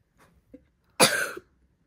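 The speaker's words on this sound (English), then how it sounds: "Was that a real cough?" A child coughs once at home on a school morning, a single sharp, close burst after a few faint small sounds.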